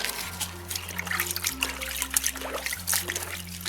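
Water trickles and splashes as a piece of sandpaper is dunked to dampen it, close and fairly loud with a low steady hum underneath.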